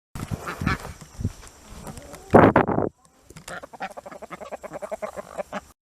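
Chickens cluck and squawk close by, with a brief loud burst of flapping or scuffling noise in the middle.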